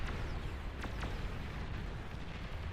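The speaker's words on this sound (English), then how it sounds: "Great nuke from Mr. Steal Your Girl. He nukes the outer edge of this here" A nuke detonates in the strategy game Beyond All Reason, a broad rumbling blast with a couple of sharp falling streaks over a dense, sustained roar that stays loud throughout.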